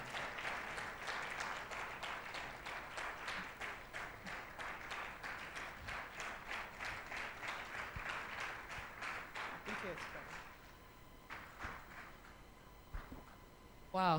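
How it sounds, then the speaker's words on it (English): A crowd applauds steadily with dense, sustained clapping that fades toward the end, leaving scattered claps and a few voices. "A round of applause, please."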